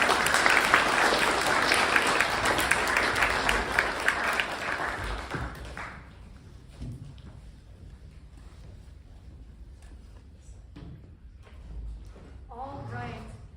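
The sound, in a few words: audience applause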